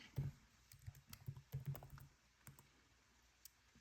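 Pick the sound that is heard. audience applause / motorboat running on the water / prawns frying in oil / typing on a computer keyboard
typing on a computer keyboard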